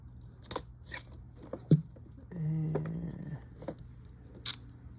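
A blade cuts and slices the tape on a toy figure's cardboard box, making a few sharp snips and scrapes up close, with a brief tearing sound in the middle and a quiet room around it.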